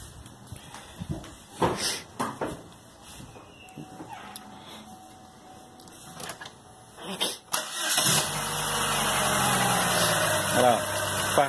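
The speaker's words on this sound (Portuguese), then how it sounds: "Liga o motor." A GM Spin engine cranks and catches, then settles into a steady idle that runs to the end, loud and close; people speak over scattered workshop noise before the start.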